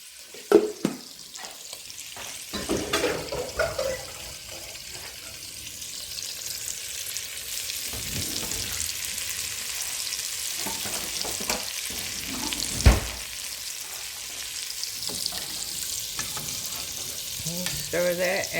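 Pot of seafood gumbo with gizzards, corn on the cob and potatoes simmers with a broad, steady sizzle and bubbling while a spoon scrapes and knocks now and then, close by, no voices.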